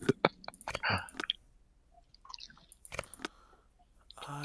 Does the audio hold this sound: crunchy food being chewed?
yes